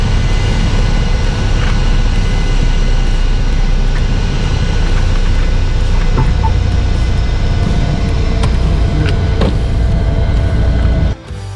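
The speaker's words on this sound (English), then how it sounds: "I applied aerodynamic braking as we rolled out and slowed down." A small airplane rolls out along the runway after landing, its loud, steady roar of engine and wind filling the cabin without a break and dropping away abruptly at the very end.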